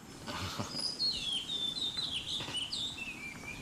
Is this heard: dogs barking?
no